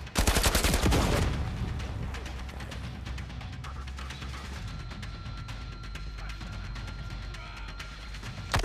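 Rapid bursts of gunfire from the VR shooter Zero Caliber crackle in a dense opening volley, then thin into scattered shots and clatter under a steady background.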